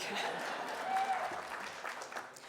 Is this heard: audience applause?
yes